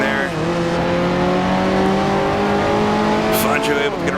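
A 1955 Formula 1 race car in the Grand Prix Legends racing game holds a steady, whining engine note, with a brief dip and shift in pitch near the end as it brakes hard; someone commentates over it throughout.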